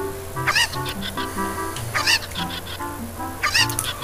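Cuccos, the chickens in Zelda: Ocarina of Time, cluck in three loud bursts of squawking over steady game music.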